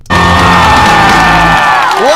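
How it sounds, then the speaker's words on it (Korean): Working musical actors give a standing ovation after a Death Note musical number, with loud sustained cheering, whooping and applause filling the hall from start to end. "저기에 앉아있는 현역 뮤지컬 배우들도요, 기립박수를 칩니다."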